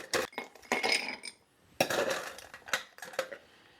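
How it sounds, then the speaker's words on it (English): Cubes of crystal-clear cocktail ice tumble into a rocks glass, a quick run of sharp clinks and rattles followed by a second louder batch settling against the glass, close and with no talking. "since it's a rocks glass, we're going to put rocks in there."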